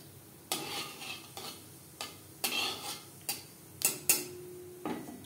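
Half a spoon of whole cumin seeds frying in three spoons of hot mustard oil, bursts of crackling spatter that flare and fade in close, irregular waves with a few sharp metallic clinks, no speech.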